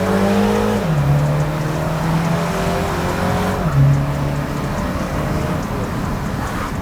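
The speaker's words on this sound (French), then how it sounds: "On sent que c'est un 4 cylindres." A MINI John Cooper Works with a four-cylinder engine accelerates hard from inside the cabin, its engine note climbing through the revs with audible gear shifts, loud and steady.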